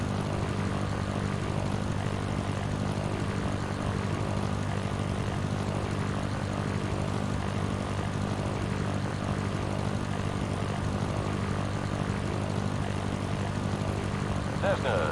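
A Cessna propeller engine drones steadily at takeoff in the Sierra Pro Pilot flight simulator, a loud, unbroken hum that holds for the whole stretch, with a pilot's voice talking over it.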